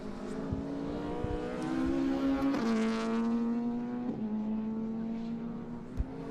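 A Ford Escort Mark I race car howls past at Mondello Park during a modified Fords race, its engine note rising and sustained, then dipping with gear changes as it sweeps by close and loud, with no talk over it.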